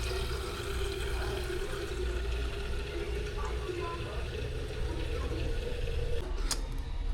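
Water poured from a tap into a mug to dilute juice concentrate, a steady continuous rushing pour that runs unbroken for several seconds at low to moderate loudness.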